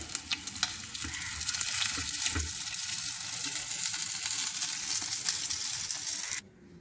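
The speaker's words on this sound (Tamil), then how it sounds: "இப்போ நல்லா மீன் இது ஃப்ரை ஆகிடுச்சு" Pieces of rock fish frying in hot oil until golden brown give a steady, dense crackling sizzle with a few stirring clinks, holding loud and even before cutting off abruptly near the end.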